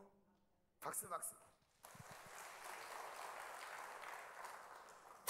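Applause from a church congregation at a Full Gospel revival service, a short loud burst followed by sustained steady clapping of moderate loudness that runs to the end of the clip.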